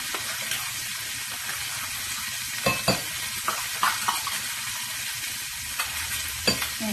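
Chicken thighs browning in a hot pan give a constant dense sizzle, with occasional louder spatters and the clack of a utensil, close and steady with no talking.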